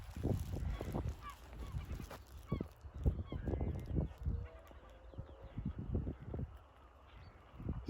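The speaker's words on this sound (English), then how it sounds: "Geese down by the river." Geese honking beside a river in a forest walk setting, repeated calls spread across the clip at moderate distance over steady outdoor ambience and footsteps.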